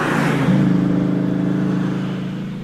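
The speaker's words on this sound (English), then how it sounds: "TVR Griffith continues up through the S's." A TVR Griffith climbing the Prescott hillclimb course through the esses, its engine note steady and fairly close, easing off slightly toward the end with no voices over it.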